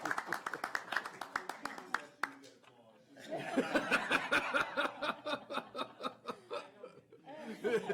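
A small group at a Health and Human Services committee work session claps briefly for the new director. Sharp, evenly spaced claps open the passage, followed by chuckling and laughter mixed with talk.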